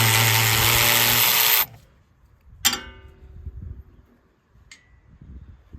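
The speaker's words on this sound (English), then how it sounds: "Battery powered tools sure do make quick work." A battery-powered impact tool spins off a brush hog clutch bolt in a loud, steady burst of about a second and a half, then stops, followed by a couple of sharp metallic clanks close by.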